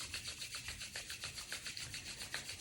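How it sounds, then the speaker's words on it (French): Two hands rub briskly together during a morning yoga session, giving a quiet, steady, rapid back-and-forth swishing that keeps an even rhythm throughout. "on va frotter nos mains ensemble"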